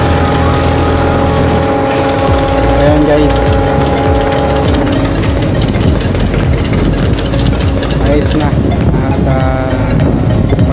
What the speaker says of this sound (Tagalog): Maganda ang takbo ng makina ng aming lifeboat at ng rescue boat.